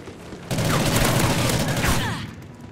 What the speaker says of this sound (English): drop shot with a shotgun